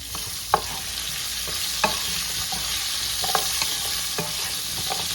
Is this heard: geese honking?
no